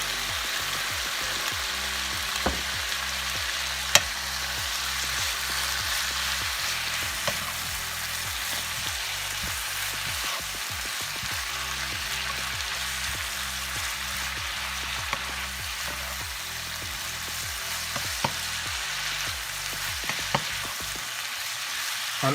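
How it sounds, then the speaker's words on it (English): Quesadilla filling frying in a pan, a constant close sizzle with a few faint taps and clicks, even and uninterrupted. "I will let it just fry for about 2 minutes"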